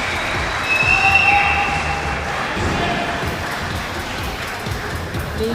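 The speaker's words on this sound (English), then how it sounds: "You can hear the applause" Applause from an audience at a men's -72 kg powerlifting event at the 2016 IPC Powerlifting World Cup in Dubai, a steady crowd clatter of clapping that swells briefly near the start and then carries on at an even level.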